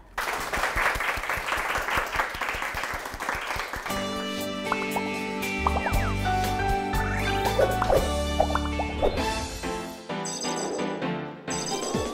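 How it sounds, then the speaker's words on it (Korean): A lecture audience claps to welcome a master engineer giving a talk on high-pressure gas equipment: dense applause for about four seconds, then a music sting with chimes takes over. "청산유수 최동준 명장님의 강연을 큰 박수로 청해 보겠습니다"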